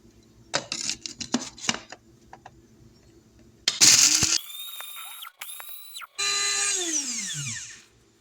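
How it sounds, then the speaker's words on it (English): A spice grinder whirs through dried ginger pieces after a few taps and clatters, running in loud close bursts that spin up and then wind down. "Our ginger pieces are all nice and dry, and they're ready to go into the spice grinder."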